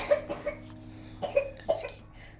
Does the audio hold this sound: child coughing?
yes